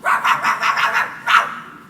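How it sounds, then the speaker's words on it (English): A dog breaks into a frenzied volley of barks: about six rapid barks in quick succession, a short pause, then one more sharp bark, close and fairly loud with no talk over it. "the dog stopped dead in his tracks and broke into a frenzied volley of barking"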